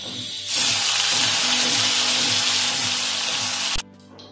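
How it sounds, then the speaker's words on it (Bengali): Paneer cubes frying in hot oil with a little salt added, a loud steady sizzle starting abruptly and running several seconds before cutting off sharply, with no talk over it. "আগে পনির গুলো ভেজে নেব।"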